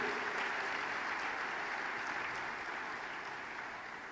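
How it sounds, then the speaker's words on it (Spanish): A church congregation claps together in steady, dense applause that holds for several seconds and then begins to taper off slightly, with no voices over it. "Denle un aplausito al Señor de regalo."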